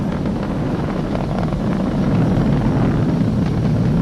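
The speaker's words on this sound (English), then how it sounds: "We're throttling down to get ready for the period of maximum dynamic pressure." A SpaceX Falcon 9 rocket's Merlin engines throttling down during ascent toward maximum dynamic pressure, heard as a steady, loud, broadband roar with deep rumble and no breaks, heard from a distance.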